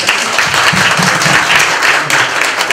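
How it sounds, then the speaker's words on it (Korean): Steady applause fills a union delegates' meeting as members clap to pass the budget proposal, a dense continuous wash of hands lasting the whole moment without speech. "예산안을 박수로 통과해 주시죠."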